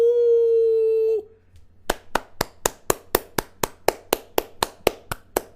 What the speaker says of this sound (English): This hand clap goes to chat for being on point